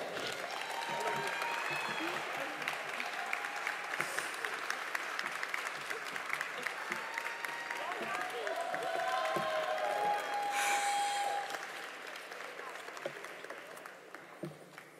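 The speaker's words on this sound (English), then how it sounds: "A round of applause, well wishes, bouquets" Commencement ceremony crowd gives sustained applause from a distance, a dense wash of clapping with scattered cheers and voices mixed in, easing slightly toward the end.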